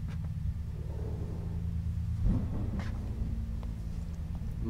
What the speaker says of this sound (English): More thunder.